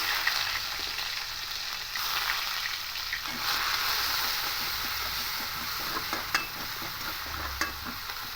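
Onion paste frying in a pan with cardamom, cloves, cinnamon and mace for a banana-flower ghonto, a soft continuous sizzle with occasional stirring scrapes and clicks of a spoon against the pan.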